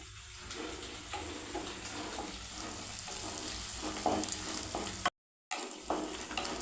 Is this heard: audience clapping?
no